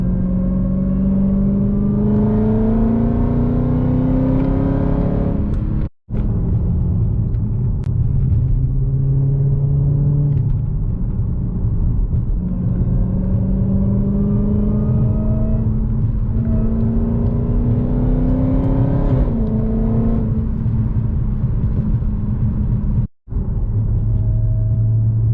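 Exhaust of a new BMW G80 M3 revving, a loud deep rumble that climbs in pitch through several long pulls and drops back, with two brief cut-outs, close and alone without talk.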